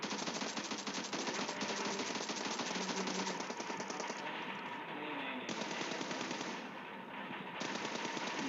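Continuous rapid gunfire in PUBG Mobile gameplay while jumping, a dense unbroken automatic rattle that stays loud throughout with brief shifts in tone, no voices over it.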